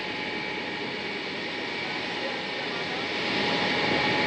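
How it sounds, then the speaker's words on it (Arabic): Steady broadband roar of an Algerian aid airplane at Aleppo airport, a loud continuous engine and air rush that swells slightly toward the end, with no clear talk over it. "هذه الطائرة الجزائرية التي حطت في مطار حلب"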